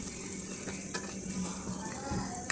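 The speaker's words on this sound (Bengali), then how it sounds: "এখন সবজিগুলো ভালো করে কষিয়ে নিব" Potato and pumpkin pieces sautéing with spices in a pan make a quiet, steady sizzle with a few soft stirring scrapes and a small clink at the end, with no speech.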